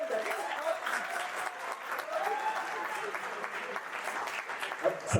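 An audience at a college hall program claps steadily for about five seconds, a dense, continuous roar of hands that fills the room with no voices standing out.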